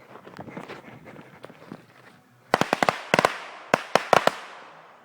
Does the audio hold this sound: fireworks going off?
yes